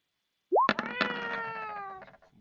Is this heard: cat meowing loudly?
yes